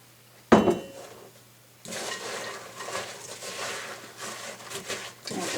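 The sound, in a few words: stirring pecan halves into cinnamon glaze in a pan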